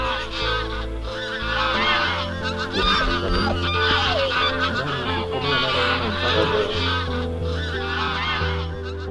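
A large flock of geese honks continuously during a February goose hunt, a dense, overlapping chorus of loud, nasal calls close by, with no speech.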